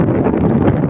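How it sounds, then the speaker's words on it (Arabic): Strong wind buffets the microphone near the Morocco–Algeria border in the southern Sahara, a loud continuous low rumble throughout a brief moment. "كاين ريح هنا بزاف"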